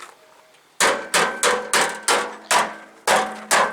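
A hammer strikes an MTD lawn tractor again and again in a durability test, eight sharp, loud, ringing blows close by, each decaying quickly, in a fairly steady rhythm with one short pause.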